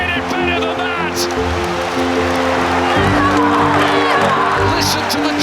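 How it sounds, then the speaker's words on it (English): Brighton supporters roar and cheer throughout a football stadium, a dense, loud crowd noise with whoops and surges, carrying on steadily under a commentator's talk. "Listen to the cheer of the Brighton supporters"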